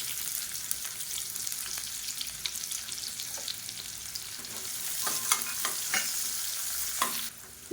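Finely chopped onions sizzle and crackle in hot oil close by, with scattered pops and occasional stirring scrapes; no talking.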